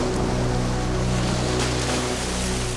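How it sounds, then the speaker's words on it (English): Ocean waves breaking around Middleton Reef near Lord Howe Island, a loud continuous roar of surf mixed with a steady low boat engine drone, with no talking. "there's waves breaking all around it as well"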